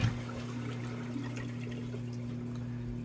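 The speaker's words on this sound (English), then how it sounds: "This is a Pumman 6 flushing a toilet." A Pumman 6 toilet that does not flush all the way down, giving a steady rushing wash of water at close range under a constant low hum, without any voices.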